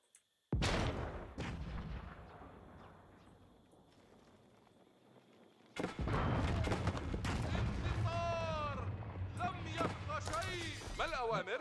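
A bombard cannon in the video game Age of Empires IV fires two heavy booming blasts several seconds apart, with battle rumble and voices talking around them.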